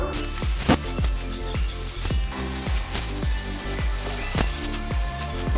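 Compressed air blows loose debris off a convertible top in a loud, continuous spraying hiss, broken by repeated short bursts and pulses, close up with no talk.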